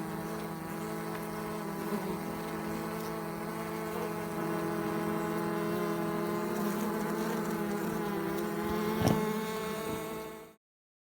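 Honey bees buzzing in a steady, continuous drone that holds at an even level throughout, with one brief thump just before it cuts off.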